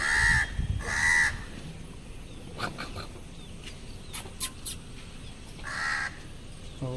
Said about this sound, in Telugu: అమ్మ కాకి ఎన్ని రోజులకు కనిపించిందో